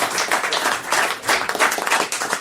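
A studio audience claps in a brisk, lively burst, many hands close together in uneven swells, with no talk over it.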